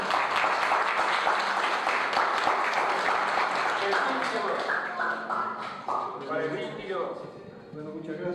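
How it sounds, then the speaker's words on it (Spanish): Guests at a baptism party clap for a companion, a dense burst of applause that thins out as talking voices take over toward the end. "Aplauso para compañero."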